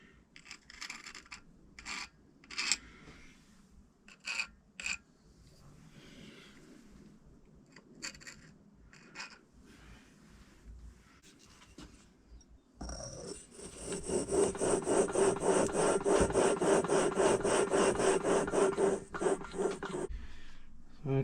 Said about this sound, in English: it seems crazy, doesn't it, to be sandpapering your flywheel almost